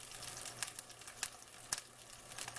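A tuna steak sears in a hot pan, a faint continuous sizzle with occasional small pops and spatters heard close up and without any voices.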